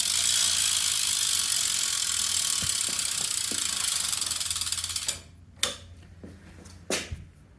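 Profile freewheel hubs on a BMX bike give a dense, rapid ratchet buzz while coasting, then slow to a few distinct clicks as the wheel winds down, close and clear with no talking.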